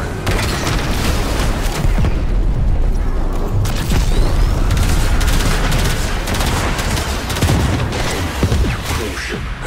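A cruise ship blows up during a Railjack battle in the video game Warframe. Loud, dense booming explosions mix with rattling gunfire in a constant, heavy wall of noise throughout.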